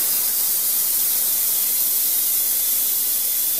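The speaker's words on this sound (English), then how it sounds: "The other thing I don't like about the pressure relief valve is it's kind of unpredictable." A steam engine's pressure relief valve blows off steam in a loud, steady hiss that holds unbroken from start to finish, with no voices over it.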